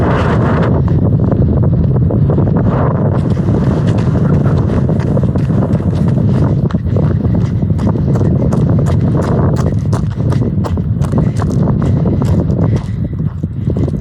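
Strong mountain wind buffets a microphone near a cliff-edge parking spot, a steady loud roar with gusty rumbling and flapping throughout, no voices.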